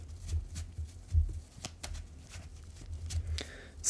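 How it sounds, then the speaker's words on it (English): A Yu-Gi-Oh card deck is shuffled up close with a continuous riffling, papery rustle and scattered sharper flicks, steady for the whole stretch with no speech. "So let's just shuffle this up and do some test hands."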